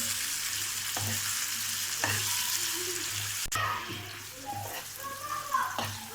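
Chicken liver (kaleji) fries and sizzles in a pan, a steady hiss marked by regular scraping stirs about once a second and a sharp clank midway.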